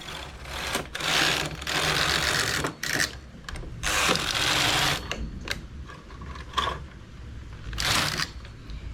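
A knitting machine carriage sliding across the needle bed while knitting a round sleeve, giving repeated whirring, clattering mechanical sweeps with brief pauses between passes, close and steady.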